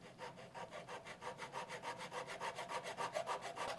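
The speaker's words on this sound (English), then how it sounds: "Let's cut the front wood lath where the LED will be installed at an angle using a small barrel." A small handsaw cuts at an angle through a soft OSB wood lath, its steady back-and-forth strokes rasping in an even, quick rhythm close by.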